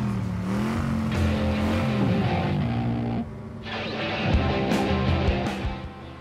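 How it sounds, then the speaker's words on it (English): Cartoon blue car speeding through a city street after running a red light, a loud continuous engine drone with shifting pitch as it races past, no talk. "Who's in that blue car? Did he just run a red light? I think he's going too fast too."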